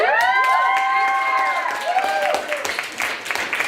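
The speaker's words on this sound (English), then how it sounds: "so another round of applause for her." Audience at a college radio story slam applauds and cheers for a storyteller, with whoops and shouts over clapping that starts loud and then thins out toward the end.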